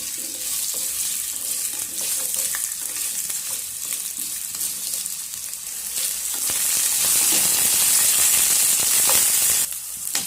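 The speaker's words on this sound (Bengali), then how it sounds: "এখন আমি এর মধ্যে আলুগুলোকে ভেজে নেব" Potato pieces fry in mustard oil in a wok over tempering spices, a loud steady sizzle with a bright hiss that swells and intensifies toward the end, with occasional soft scrapes and no talking.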